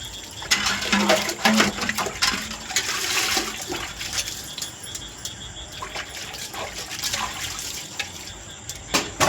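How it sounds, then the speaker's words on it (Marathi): Muddy rainwater rushing along after a downpour, a steady broadband wash of flowing water with small splashy surges throughout, fairly close and with no talk over it. "पावसामुळं गढूळ पाणी चाललं"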